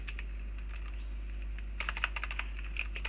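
Typing on a computer keyboard while writing Android code for a custom Material dialog in Android Studio: a quick run of close, clicky keystrokes in the second half over a steady low hum, with softer taps early on.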